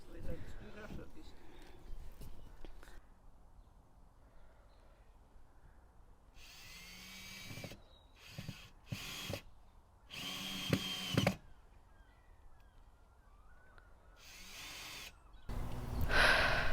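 A power screwdriver fits a handle onto a hot composter bin in a Scottish garden, whirring in several short bursts of varying length with quiet pauses between and occasional talk nearby.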